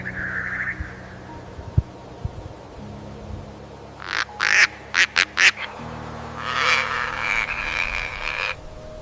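Male Bulwer's pheasant in the Borneo rainforest giving bizarre bellowing calls: a run of five short, strong bursts followed by a longer rasping bellow, close and loud over a steady low forest hum.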